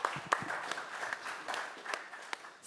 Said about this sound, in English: give my distinguished speakers a warm round of applause.